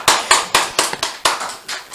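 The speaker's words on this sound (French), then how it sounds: "un tonnerre d'applaudissements s'il vous plaît dans les studios" Studio applause, with sharp, loud bursts of hand clapping arriving in a quick uneven rhythm, close and clear with no voices over it.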